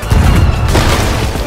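A ship's cannon fires in the Sea of Thieves pirate game, a loud, heavy boom followed by a rumbling roar that fills the moment up close.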